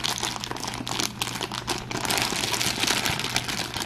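Play-Doh packaging being opened by hand without scissors, giving a steady, close, busy crinkling and rustling of plastic wrap that runs throughout with a faint low hum beneath and no talk.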